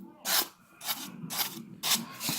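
Foam being carved into a rock shape, edges chipped away in four rough rasping bursts, each about a quarter second long and close by, with short pauses between them.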